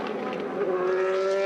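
A sports prototype race car powered by a 4.2-litre Gibson V8 screams past during qualifying at Portimão, a loud, high-revving engine note that rises steadily in pitch as it accelerates.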